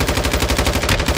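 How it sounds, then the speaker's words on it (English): Rapid automatic gunfire from a firefight in Call of Duty Warzone ranked play on Al Mazrah, a steady loud burst of evenly spaced shots filling the whole moment with no talk. "he got some good shots on me there"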